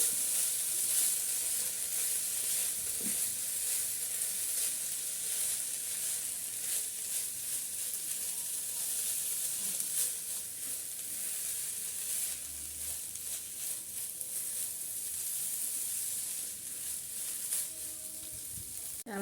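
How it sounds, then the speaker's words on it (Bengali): Soaked rice fries with spices in a pan for a cauliflower pulao, producing a steady, close hissing sizzle that barely changes in level, with faint stirring scrapes now and then. "আমি একটু চালগুলো একটু মশলার সাথে ভেজে নিচ্ছি"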